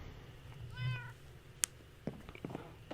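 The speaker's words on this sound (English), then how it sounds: "There's my cat." A Minecraft cat gives one short, clear meow in the game, followed by a sharp click and a few soft tapping noises in a quiet setting.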